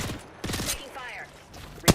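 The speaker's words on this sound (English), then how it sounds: "Getting shot at." Enemy gunfire strikes the player in a sci-fi shooter video game, heard as a few short loud bursts of impacts spread over two seconds, with a sharp crack near the end.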